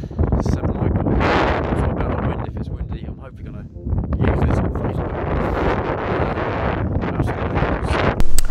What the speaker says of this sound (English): I know it's still windy today, but hopefully my mic can handle this wind